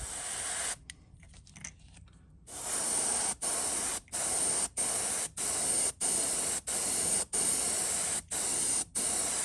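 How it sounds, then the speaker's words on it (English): A steady hiss of an airbrush spraying candy paint at low pressure close up, cut by a series of brief regular pauses as the trigger is released and pressed again. "These candies are very airbrush friendly."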